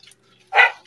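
A pet dog at bath time gives a single short, loud bark close by, with faint drips and a little shuffling before it.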